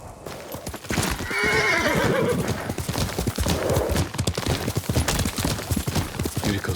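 Horse in the video game Ghost of Tsushima, a loud whinny followed by steady clip-clop of hooves close by, with a burst of gunfire-like sound mixed in.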